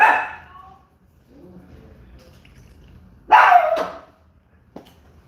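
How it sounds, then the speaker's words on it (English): A dog barks once sharply at the start, then after a quiet stretch with faint murmuring lets out a louder double bark, followed by a small yip. "VJ, stop that barking here."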